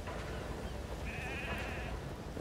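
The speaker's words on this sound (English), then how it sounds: "we see our friends, the sheep and Jackie, have made it back to Mother Base safely" A single drawn-out sheep bleat in Metal Gear Solid 5: The Phantom Pain, wavering and fairly clear, rises over a steady background hum and fades after about a second.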